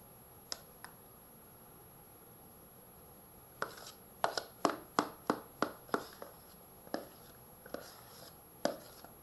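Lemon cheesecake mousse being spooned into dessert bowls, a series of soft taps and scrapes of a spoon against the bowls, close and quiet, bunched in the middle with a few isolated knocks.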